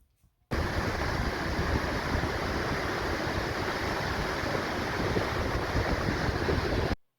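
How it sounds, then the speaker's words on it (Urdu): Elbow Falls pours into the Elbow River, a dense, steady roar of rushing water that holds constant throughout, full and broadband, with no voices. "نیچے ایلبو ریور بہہ رہا ہے اور وہ دیکھیے ایلبو فالس ایلبو ریور میں گر رہی ہے۔"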